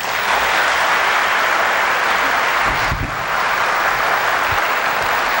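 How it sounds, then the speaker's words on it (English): Steady, dense applause from a large audience at a lecture, loud and continuous, with a brief low thump partway through. "Please let us receive her with a round of applause."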